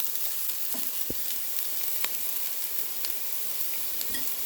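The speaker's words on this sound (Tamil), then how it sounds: "இப்போ கொஞ்சம் எண்ணெயிலே நல்ல வடிவாக ப்ரௌனாக பொரிஞ்சு வந்துட்டுது" Onions or spices frying in hot oil for a biryani, a continuous close sizzle with occasional crackles and stirring clicks, no voices.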